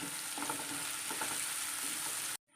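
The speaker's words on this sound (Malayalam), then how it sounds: "നമുക്കിത് സവോള ഇട്ട് കൊടുക്കാം ലേശം ഉപ്പിട്ട് കൊടുക്കാം" Sliced onions with a pinch of salt fry in a pan for a mango curry, a steady close sizzle with a few soft stirring scrapes, cutting off abruptly near the end.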